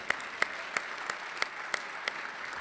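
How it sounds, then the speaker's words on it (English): A breakfast crowd at the Palmer House applauds the hotel staff, a soft bed of distant clapping punctuated by one loud nearby clapper striking about three times a second in a steady rhythm. "let's give a round of applause to the Palmer House staff for making this happen"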